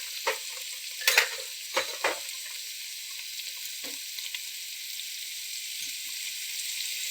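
Vegetable pieces fry in a pan with turmeric added, making a bright, steady sizzle broken by several stirring scrapes early on, then settling into a continuous hiss.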